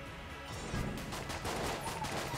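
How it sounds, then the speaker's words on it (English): Weapon fire in a modded Enter the Gungeon game, a fairly faint flurry of overlapping shots and crackling impacts, continuous and busy rather than distinct single reports. "It fires twice whenever I reload."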